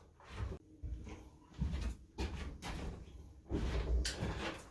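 A wooden serving tray, built as a farmhouse stove cover, is handled and flipped over on a workbench with clamps still attached, giving a series of close wooden knocks, thumps and scrapes in uneven bursts, with no speech.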